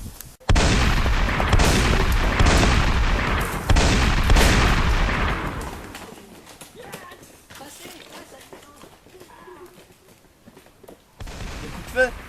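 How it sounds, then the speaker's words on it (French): Gunfire in a French film about Napoleon Bonaparte's campaigns: a loud volley of shots and booms at the start, repeated a few seconds later, then fading into a quieter stretch with distant sounds and a voice near the end. "Des coups de feu?"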